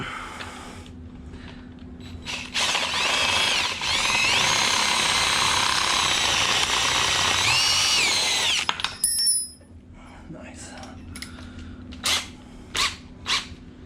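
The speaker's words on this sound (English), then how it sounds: "we're just going to drill it out with a 3/8" A loud power drill whines steadily for about five seconds drilling out 3/8 bolt holes for poly fenders on a RAM 4500 chassis cab, then winds down into clattering metal clicks and handling knocks nearby.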